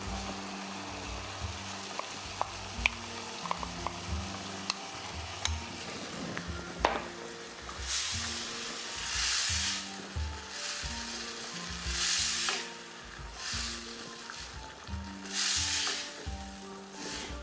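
Papaya and coconut milk with sugar sizzle and bubble steadily in a pan for a gratin, with scraping stir strokes and occasional utensil clicks; the sizzling swells in louder bursts later on, and no one speaks.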